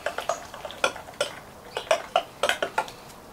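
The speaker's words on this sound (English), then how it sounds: "we're just going to give that a bit of a mix up" A spoon briskly mixing an olive oil marinade in a bowl, giving a quick run of close, bright clinks and taps against the sides, repeated in an uneven rhythm with no talking.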